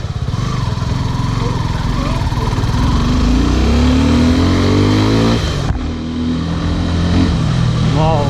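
Suzuki Gixxer SF 250 motorcycle with a 250cc engine running during a mileage ride, a loud continuous engine drone whose pitch climbs steadily through the gears, briefly dips, then rises again.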